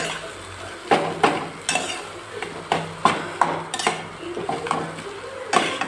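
Mashed potato goes into a pan of frying onions and dried chilli, with a spoon clattering and scraping against the metal in repeated sharp knocks over a low sizzle, all close up and with no talk.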